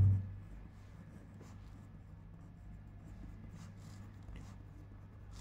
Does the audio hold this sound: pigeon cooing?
no